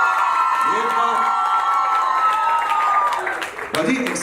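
A live audience at a stage event with a singer breaks back into sustained clapping and cheering, a dense, steady roar of hands and shouting voices that dips briefly near the end before swelling again.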